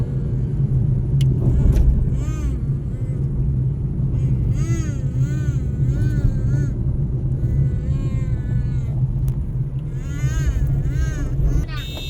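A car rolls along with a steady low engine and road rumble underneath, while people inside talk over it the whole time.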